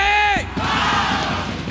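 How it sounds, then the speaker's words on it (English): Fans cheer and yell at an MPL Malaysia Season 13 playoff esports match, a loud crowd roar that swells after a brief held shout and continues as a dense, sustained wash of voices. "fans are cheering for their favorite teams"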